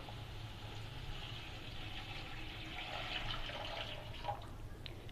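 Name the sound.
water being poured into a cooking pan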